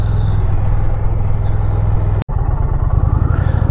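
Indian Pursuit Limited motorcycle engine idling or running close by, a steady low rumble with a regular pulsing beat that cuts out for a moment and then resumes.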